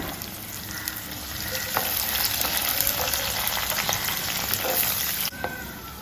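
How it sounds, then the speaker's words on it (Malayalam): Two large, very hot green chillies, slit down the middle, frying in hot oil in a pan: a continuous close sizzle and crackle with scattered pops that cuts off sharply near the end. "വലിയ പച്ചമുളകാട്ടോ നല്ല എരിവുള്ളത് ഇത് രണ്ടെണ്ണം എടുത്തിട്ടുള്ളൂ നടുവ് കീറിയിട്ട് ഒന്ന് ഇട്ട് കൊടുക്കുന്നുണ്ട്"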